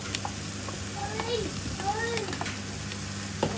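Prawns fry in a pan for a Goan prawn curry, a low continuous sizzle with occasional stirring clicks, while a voice chirps faintly in the background.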